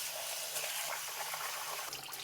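White rice is washed in water to rinse off the starch, giving a quiet, continuous swishing and trickling of liquid at close range, with no voices over it.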